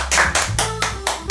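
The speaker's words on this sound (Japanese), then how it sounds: "拍手。" A handful of close hand claps welcome a guest at the start of a casual food-review show, landing as about five distinct, slightly irregular strikes in quick succession.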